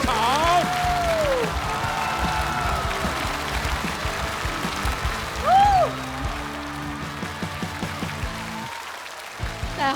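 At a Chinese-language stand-up comedy show, an audience gives warm applause to welcome a comedian, with scattered whoops and whistles rising through the clapping before it fades.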